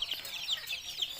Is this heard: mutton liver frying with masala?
no